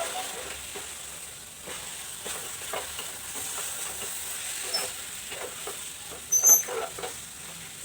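Grated carrot halwa roasting in ghee with mawa and mishri sugar, a soft continuous sizzle and hiss with faint stirring scrapes, steady and close, rising briefly near the end.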